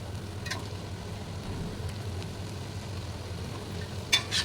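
Jaffna-style dried fish fry with boiled eggs stirred in a pan, a soft steady sizzle with faint scraping and a couple of brief clinks near the end, quiet and close.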